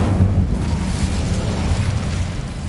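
An Incendio fire spell from the Hogwarts Legacy video game erupts as a loud, steady roaring blast of flame that fills the whole clip with dense rumbling noise and no talk.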